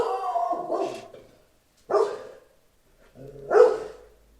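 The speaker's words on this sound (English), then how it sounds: "It wouldn't be a video of mine without dogs barking." Dogs barking nearby in a home, three separate bursts of barks spaced by short silences, the last one loudest, with no talking.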